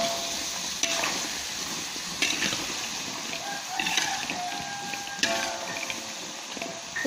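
Potato sambal goreng is stirred in a large pan, with a steady sizzling hiss of frying and periodic scraping strokes of the spoon at a moderate distance.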